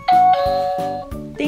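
A toy dollhouse doorbell plays a bright electronic chime tune, a few clear tonal notes in quick succession, loud and close, with no voices over it.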